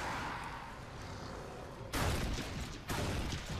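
Gunfire against a hell beast in the video game The Darkness 2, including a Model 1887 shotgun, with loud game combat noise and two sudden heavy blasts standing out against the steady din.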